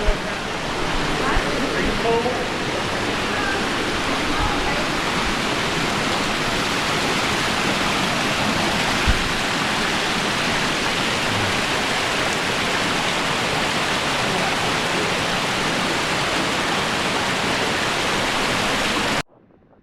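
A waterfall on a one-day Colorado River whitewater trip with Hualapai River Runners rushes close by in a dense, even roar that stays steady for nearly twenty seconds before stopping abruptly.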